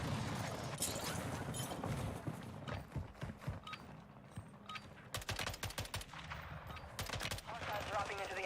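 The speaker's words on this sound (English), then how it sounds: "Want to see if I can hip fire him." Hip-fired gunshots in Warzone 2 crack out in rapid bursts, loud and close, with sharp repeated reports clustered in the second half and game noise running underneath.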